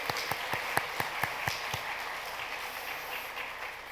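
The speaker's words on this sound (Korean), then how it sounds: "박수해 주시기 바랍니다." A church congregation in Daegu claps after new members are received on Easter Sunday, a brief round of fairly faint, evenly spaced claps that thins out and fades into room tone within a couple of seconds.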